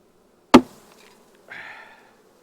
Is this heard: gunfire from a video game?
no